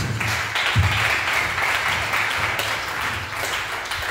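Church congregation applauding throughout, a steady wash of clapping with a few louder claps standing out, with faint voices and low hum beneath.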